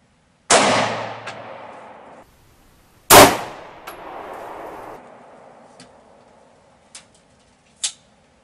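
A 7.62x25 pistol fires at a steel armor plate: two loud, sharp shots land about two and a half seconds apart, each with a ringing metallic clang and decaying reverberation. A few faint clicks and a brief tick follow near the end.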